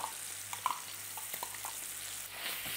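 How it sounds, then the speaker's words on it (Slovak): Tomato paste frying together with meat in a pan for chilli con carne, a steady close sizzle with small crackles and faint scraping, no voices. "Preto orestujem spolu s mäsom."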